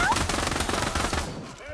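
Rapid automatic gunfire from a weapon in the Pavlov shooter video game, a loud dense burst that fades out toward the end, with no speech over it.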